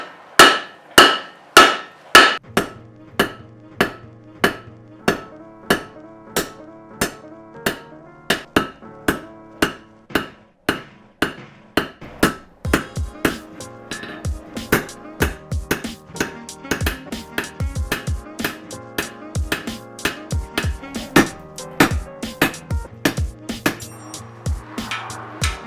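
A hammer strikes a 1095 high carbon steel axe bit on an anvil, in sharp ringing blows. The slow, evenly spaced strikes give way to a quicker, denser rhythm, loud and close, with no talk.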